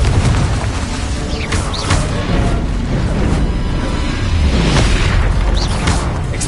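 Hogwarts Legacy spell blasts from Bombarda and Confringo make loud, continuous booms and bursts, one after another, with whooshing spell casts over heavy rumbling.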